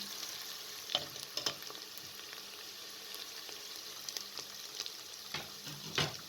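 Onions and cumin sizzle steadily in hot oil, with occasional soft knocks and scrapes as a spoon stirs them around the pan.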